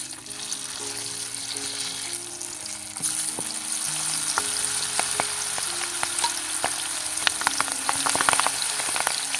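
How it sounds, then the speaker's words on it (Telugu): Green chillies fry in hot oil while chicken pakoda is made, a steady close sizzle with crisp crackles and pops that grow a little busier toward the end. "పచ్చిమిర్చిని నూనెలో వేసుకొని తీసుకుందాం."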